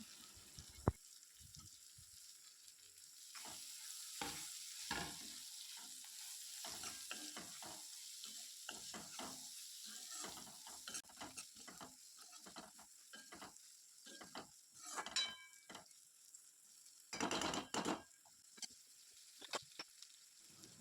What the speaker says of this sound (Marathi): यामध्ये आता भाजून घेतलेली गवारी टाकायची आहे आणि तेलात मिक्स होईल असं याला छान परतून घ्यायचं आहे